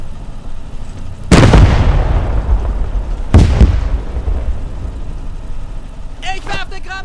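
In Call to Arms Gates of Hell Ostfront, two loud grenade blasts go off a couple of seconds apart, each a heavy boom with a long fading rumble, over low battle ambience, and a voice speaks briefly at the end.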